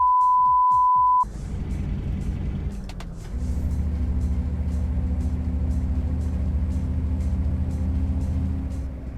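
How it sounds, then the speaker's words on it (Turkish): A steady, droning video-game truck engine rumbles continuously at close range after a short tone and a hiss, holding a low, even idle throughout. "Sesi çok güzel ya aracın."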